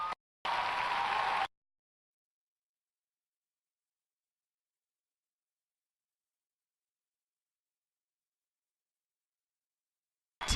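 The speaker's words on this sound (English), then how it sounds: "So clap now." Podcast audience clapping in a short burst lasting about a second, fairly loud and dense, followed by a long stretch of silence.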